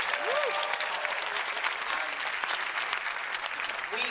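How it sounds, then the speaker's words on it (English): Lively audience applause at a film event introducing The World's End, a steady crowd of clapping throughout with a brief voice at the start. "Can we give a round of applause for the lady who lost her Shaun of the Dead virginity tonight?"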